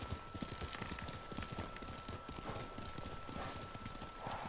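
Horse hooves clip-clop steadily while riding in the Ghost of Tsushima video game, a dense continuous gait heard alongside game ambience.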